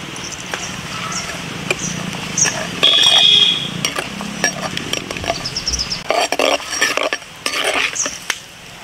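Spices tossed into hot oil in a pot for a village-style country rooster curry, with a light crackle and scraping spoon strokes against the pot, some louder clatters, close up.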